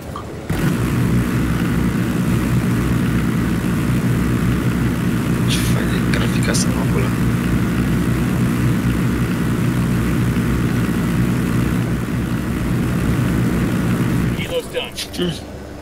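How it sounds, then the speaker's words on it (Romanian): Propeller airplane engine in the open-world video game Ghost Recon Wildlands, a loud continuous droning roar that holds steady for about fourteen seconds before cutting off, with brief clicks near the middle. "E un avion."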